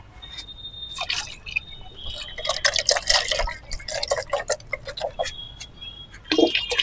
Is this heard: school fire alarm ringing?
no